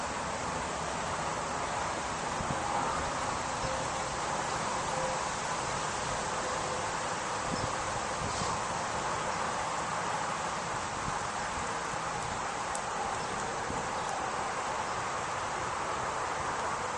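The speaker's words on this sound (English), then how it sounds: "It's pretty windy today" Steady wind rushes through leaves outdoors at a campfire site, a broad, constant hiss that stays level and fills the whole stretch without pauses or voices.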